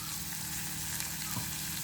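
Chopped tomatoes frying in a pan give a dense, steady, close sizzle that holds evenly throughout, with no voices over it.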